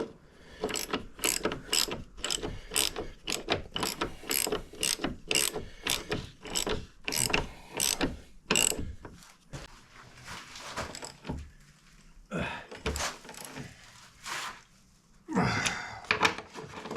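Hand ratchet tightening a wheel bearing nut on a 2009 Chevrolet Impala, a rapid series of close metallic clicks in bursts with short pauses and faint breathing between.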